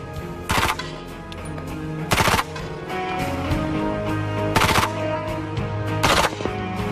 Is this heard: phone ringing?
no